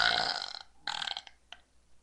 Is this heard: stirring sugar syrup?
no